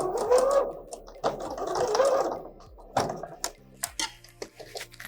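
A sewing machine stitches across the pocket seam of an A-line dress in short bursts of whirring and clicking, interspersed with mechanical clacks and handling sounds up close.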